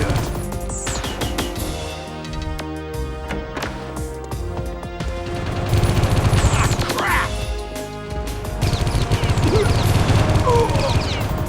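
Enemy gunfire in Geist, scattered sharp shots and crackling bursts mixed with clattering impacts and game music, growing louder and denser in the second half.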